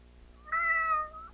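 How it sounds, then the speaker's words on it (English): A pet cat gives a single clear meow lasting under a second against a quiet indoor background, with no talking. "And apparently my cat."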